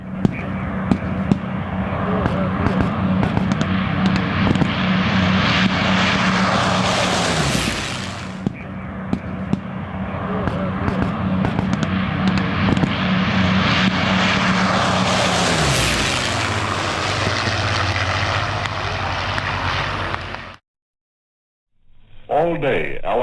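Propeller aircraft drone loudly overhead at a large WW2 reenactment, two passes swelling and fading with a steady engine hum throughout, ending in a brief sharp cutoff.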